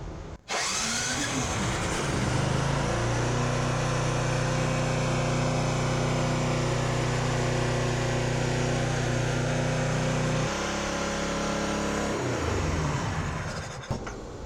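A Toro 277 snow blower engine fires up with the choke on and runs loud and steady at high revs for about ten seconds, then drops to a lower idle before slowing near the end.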